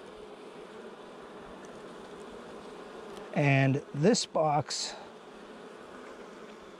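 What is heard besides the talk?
honeybees buzzing in a hive box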